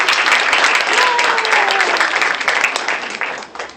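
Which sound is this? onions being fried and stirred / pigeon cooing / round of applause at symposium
round of applause at symposium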